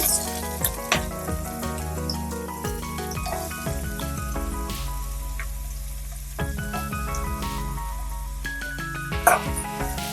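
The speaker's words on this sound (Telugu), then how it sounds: "ఇప్పుడు అందులో ముందుగా కట్ చేసి ఉంచుకున్న ఆనియన్స్ మరియు కరివేపాకు వేసుకుంటున్నాను" Chopped onions and curry leaves sizzle in hot oil for a pasta curry, a steady close frying hiss with occasional stirring clatter; a dog barks briefly in the background.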